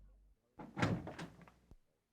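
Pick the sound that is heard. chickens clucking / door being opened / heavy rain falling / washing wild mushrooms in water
door being opened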